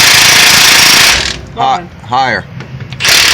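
Milwaukee power tool rattling loudly as it removes 18 mm caliper bracket bolts on a Ford E350 rear end with a Dana 60 full floating axle; hammering bursts frame a short spoken exchange in the middle.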